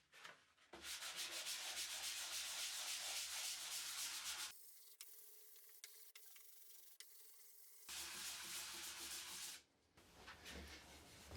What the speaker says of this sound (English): on to the last step of sanding using 220 grit sandpaper